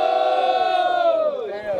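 A rap battle crowd at Batalha do Galo roars and shouts in a sustained, loud surge for about two seconds, voices blending into one swelling cry.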